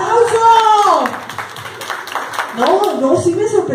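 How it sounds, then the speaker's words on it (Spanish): An audience claps at a children's game show event, a brief burst of applause between stretches of close talking by a host. "pero fuerte el aplauso."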